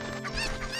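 A single short, harmonic squawk from a chicken in The Legend of Zelda: Ocarina of Time in Kakariko Village, close and fairly loud.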